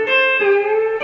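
A slow, sustained pedal steel guitar lick, smooth gliding notes ringing out alone with a fresh pluck near the end.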